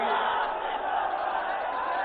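A large crowd roars steadily at a Samajwadi Party political rally in Mau, a dense, continuous wash of cheering and shouting voices that stays loud and unbroken throughout.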